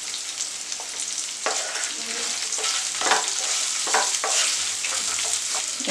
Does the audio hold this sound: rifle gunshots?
no